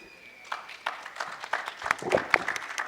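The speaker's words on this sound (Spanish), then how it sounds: "un fuerte aplauso a los ponentes, Francisco Javier Guerrero y Walter Martínez" Scattered, thin applause from an audience for two speakers at a political talk, individual claps building unevenly and growing a little denser toward the end.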